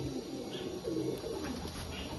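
Pigeons in a racing loft in Krishnanagar give low, soft, murmuring coos that run steadily for a couple of seconds against faint background noise.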